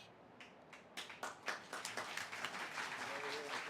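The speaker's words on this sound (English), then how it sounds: "Give that woman a round of applause" An audience at a veterans' birthday-party event breaks into applause, starting with a few isolated claps and quickly building into steady, moderately loud clapping from a crowd.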